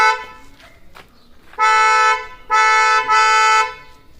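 Original Hyundai Creta horns fitted to a Maruti Brezza blare in two long, loud, close honks, the second with a brief dip in the middle, after a few faint short taps.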